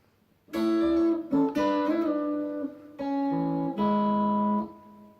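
An electric guitar plays a lead phrase in harmonized sixths, with paired notes sustaining and shifting over about four seconds after a short quiet lead-in.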